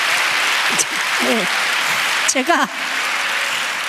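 Audience applause fills the whole stretch as a steady, fairly loud wash of clapping, with brief spoken interjections from a presenter breaking in near the start and again toward the middle.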